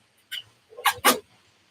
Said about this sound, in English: Sound like a dog.